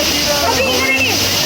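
A small monsoon waterfall in Uttara Kannada, Karnataka, rushes in a steady close wash of falling water, with a person speaking over it.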